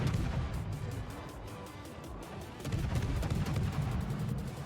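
Heavy naval gunfire from a Tier X French destroyer, the Marceau, in World of Warships: rolling, booming shots and crashes that run continuously through the clip, dense and loud with no talk.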